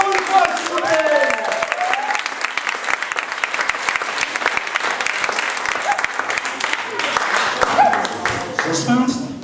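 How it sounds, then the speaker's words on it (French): An audience at a slam poetry tournament breaks into loud, sustained clapping that carries on through the whole stretch, with voices talking and calling over it. "On peut applaudir Sylvain encore une fois, s'il vous plaît"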